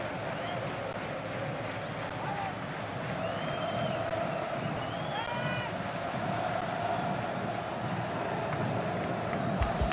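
A large crowd of Flamengo supporters roars and cheers steadily inside Pacaembu stadium during a 2016 Campeonato Carioca match against Fluminense, a dense, continuous wash of distant voices that swells slightly toward the end.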